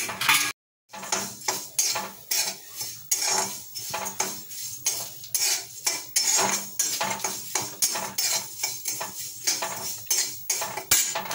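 Poha being dry-roasted and stirred in a pan, a close, rhythmic series of metallic scrapes and clinks, one brief gap near the start, with no talking.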